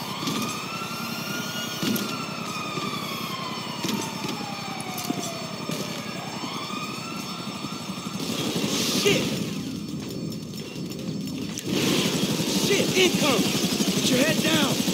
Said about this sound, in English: A bureau chopper seen you on the side of the building.